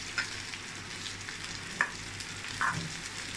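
Taro root (seppankilangu) frying in oil in a pan, a soft continuous sizzle with a few brief crackling spits, close and fairly quiet.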